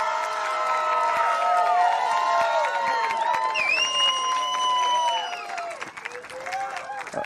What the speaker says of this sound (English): let's have one more round of applause for all of our champions